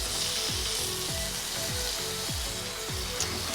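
Ribeye steaks sear on a hot Weber Slate flat-top griddle at a hibachi-style cookout, giving a steady loud sizzle and crackle with a few soft scraping thumps as the meat is laid down and moved.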